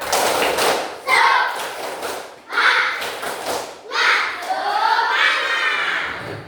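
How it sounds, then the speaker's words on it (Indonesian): A primary school class claps out the rhythmic 'tepuk semangat' cheer at the end of a lesson, several loud patterned bursts of clapping mixed with children's chanting voices. "Siap ya, tepuk semangat."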